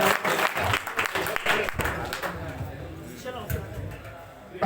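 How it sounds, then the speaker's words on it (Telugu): A crowd claps for a bhajan singing group, a brief burst of scattered applause that fades as a voice talks over it. "ఒకసారి గట్టిగా చప్పట్లతో కరతాళ ధ్వనులు తెలియజేయాలి"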